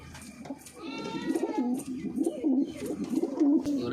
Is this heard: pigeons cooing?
yes